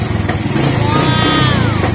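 A Suzuki Raider J 110 motorcycle engine with a fault that stalls it when the handlebar is turned right runs loudly and steadily up close, a continuous mid-pitched engine drone with a faint rising whine, no talk over it.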